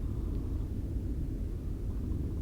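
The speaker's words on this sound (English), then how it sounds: "All that rumbling in the distance, all of it is thunder." Low, continuous thunder rumbles in the distance during a storm on a long hike in Utah, a steady broad roar with no distinct claps.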